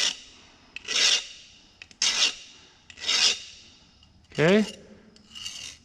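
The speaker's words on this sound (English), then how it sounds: "And I'm filing around" Hand file rasping burrs from the cut edge of a brake line in a workshop, four close, loud strokes in a steady rhythm, with a brief spoken word between them.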